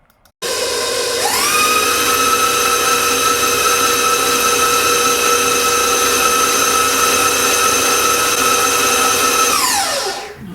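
An electric hand mixer beats pistachio cookie bar frosting made from butter, powdered sugar, vanilla, almond extract and salt, spinning up to a loud steady whine that holds for about nine seconds, then winds down, with no talking.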